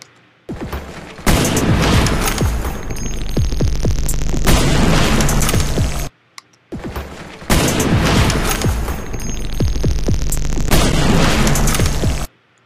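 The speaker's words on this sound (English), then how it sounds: "see what metal tank sounds like" Metal tank reverb effect applied in Sony Vegas to a loud, dense burst of booming, crackling sound, played twice in a row with a short gap, each pass ringing out with a long metallic echo.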